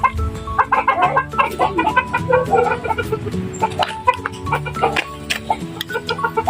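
A pet silkie chicken clucks repeatedly up close, with short clustered clucks and soft murmuring calls in an uneven rhythm.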